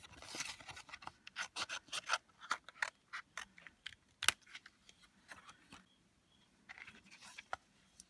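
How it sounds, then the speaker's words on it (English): Scissors snip through paper and card around a die-cut shape, close and quiet, in short uneven bursts of cutting and rustling with brief pauses between strokes. "now I am just going to cut this whole die out"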